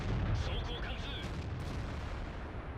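A tank cannon fires in World of Tanks, a heavy booming blast at the start that rolls into a rumbling decay under continuous game noise.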